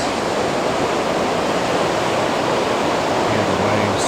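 Ocean waves crash and churn along the shore at Cayman Brac, making a loud, unbroken roar of surf that fills the whole stretch.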